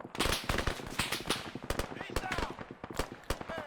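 Rapid gunfire in Arma 3 during a war against Iranian forces: dense, sharp close shots in irregular bursts throughout, with voices mixed in.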